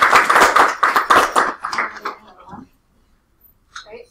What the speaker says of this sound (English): Let's give Gia a round of applause because that is right.